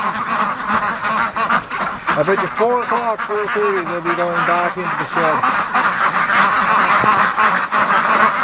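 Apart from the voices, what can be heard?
breeding ducks quacking and honking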